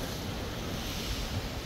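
Strong, wind-driven sea waves surge steadily along the Jeddah corniche in Saudi Arabia, a dense continuous wash of surf mixed with wind rumbling on the microphone, with no voices.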